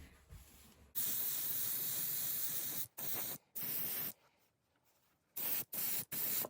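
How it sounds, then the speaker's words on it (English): An aerosol can sprays pearl white paint onto a handmade swimbait in several close, steady hissing bursts of varying length, separated by short pauses. "I'm just going to come up from the top and spray down with some pearl white"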